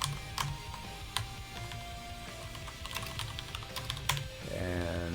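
Rapid, uneven clicks of typing on a computer keyboard while working on code, sounding close and fairly quiet, with short bursts of keystrokes and a faint background hum.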